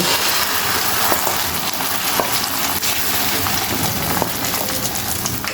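Beaten egg mixture sizzles steadily in a hot pan for Chinese-style cooking, a dense continuous crackle and hiss heard close with no talking.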